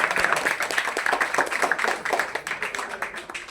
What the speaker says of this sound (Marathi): आपण सर्वांनी पुन्हा एकदा जोरदार टाळ्या वाजून त्याचं स्वागत करावं अभिनंदन करावं